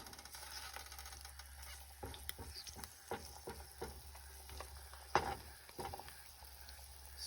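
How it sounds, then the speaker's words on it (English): An egg frying over easy in a pan on top of a spicy stew, a low continuous sizzle with scattered small crackles and pops, quiet and close, with no talking. "I'm gonna cook it over easy."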